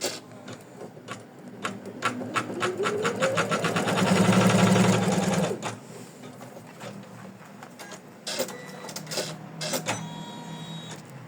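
Embroidery machine stitching an in-the-hoop heart ornament, a rapid rhythmic clatter of needle strokes that swells into a steady whir before settling back into irregular ticking, close and clear.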